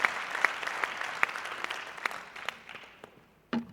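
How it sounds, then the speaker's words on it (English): At a family reunion gathering, a small group claps in scattered, distinct hand claps that grow sparser and fade, closing with one last sharp clap. "Give yourself a hand of applause"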